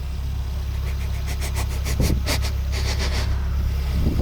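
A Ford Fiesta ST sits idling with a steady, low engine drone and faint rumble, a few brief mechanical ticks rising above it partway through, recorded fairly close at a car event with no talking.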